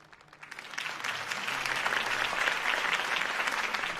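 Crowd applause for Harvey Dent's campaign rally in Batman: The Telltale Series, swelling from a quiet start into a steady, dense ovation that holds strong to the end.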